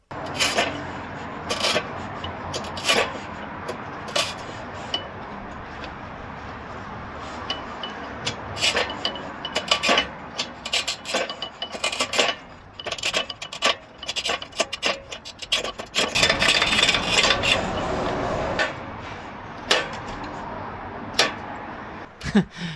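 Mosaic tiles for a splashback being scribed and snapped by hand outdoors in a garden: repeated close scraping rasps broken by sharp cracking snaps at irregular intervals, with no talking.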